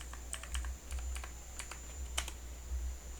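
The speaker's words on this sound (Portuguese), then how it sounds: "Deixa eu digitar" Keys on a computer keyboard are typed in a quick irregular burst of sharp clicks, close and fairly quiet, with no voices.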